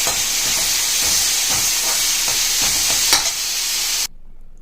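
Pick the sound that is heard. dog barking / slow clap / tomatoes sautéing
tomatoes sautéing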